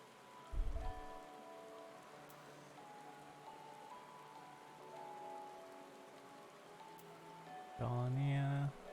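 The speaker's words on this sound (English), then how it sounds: "No, it's raining." Rain falls steadily in Final Fantasy XIV's Gridania, a soft continuous patter behind sustained game music, with a thump early on and a louder musical swell near the end.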